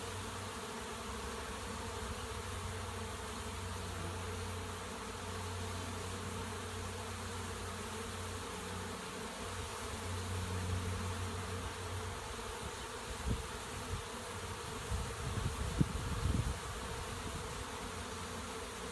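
A honeybee swarm pours out of a hive in a dense, continuous buzz that holds steady throughout, with a few louder passes of bees near the listener toward the end and no speech.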